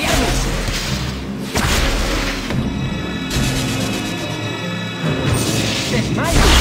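Spell-duel effects in a Harry Potter video game, with whooshing casts and heavy thuds and crashes layered over a continuous music bed, with no pauses.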